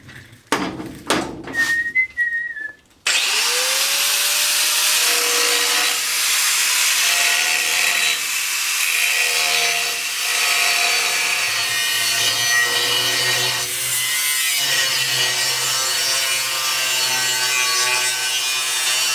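Hand sawing through a metal part on a 1966 vehicle being restored, a steady continuous rasping cut that carries on loud and alone for most of the stretch, following a few sharp knocks at the start.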